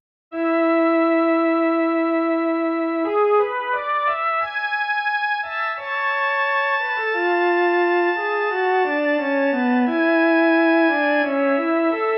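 Synthesized music with a sustained melody, joined by a second, lower melodic line moving underneath, steady and continuous throughout.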